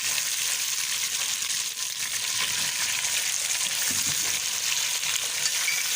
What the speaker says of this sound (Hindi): अब हम इसको थोड़ा सा फ्राई करेंगे